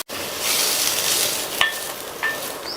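Onions sautéing in a pan for tea-time snack batter give a steady, close sizzle with a few sharper pops and scrapes as they are stirred, and no talking.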